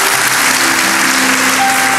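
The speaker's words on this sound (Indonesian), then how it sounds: "Kasih tepuk tangan untuk mereka yang melayani hari ini." A church audience claps loudly and steadily for the servers, a dense wash of applause with sustained musical tones humming underneath.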